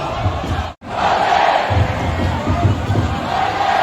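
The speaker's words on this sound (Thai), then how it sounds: "กองเชียร์ชลบุรีครับก็ตะโกนชลบุรีชลบุรี" A Chonburi FC stadium crowd chants and shouts "Chonburi" in a dense, continuous roar, with one brief dropout near the start before the noise returns at full volume.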